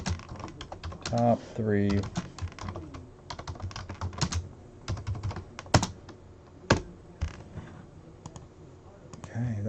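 Bursts of fast clicking on a computer keyboard, typing a post in a thread, close and crisp, with pauses between runs and a person speaking briefly over the keystrokes.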